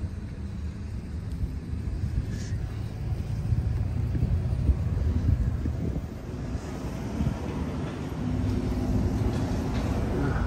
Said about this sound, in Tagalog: release po ng trolley yan, ng tren.